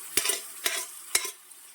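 Pea and spinach filling going into hot tempering: three crisp scraping, stirring strokes in a pan over a low sizzle, close by, with no talking.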